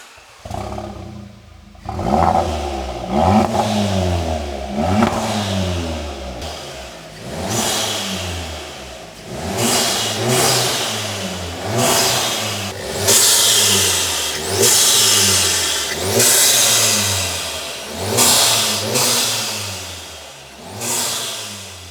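An Audi TT with a custom exhaust, carbon tips, an upgraded air intake and a Race Chip tune starts, then revs over and over. About nine loud, rising engine roars are each followed by a falling drop back to idle, all close by.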